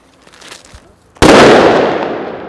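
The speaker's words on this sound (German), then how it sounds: "dafür, dass es die kleinsten Böller sind, sind stabil" Small firecrackers go off with a sudden loud bang followed by a long crackling, hissing burst that slowly fades, after quieter background noise.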